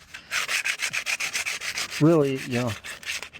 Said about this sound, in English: use some sanding discs by hand and just, sand away on it.